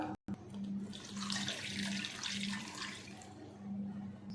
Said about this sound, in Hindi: अब पानी डालेंगे।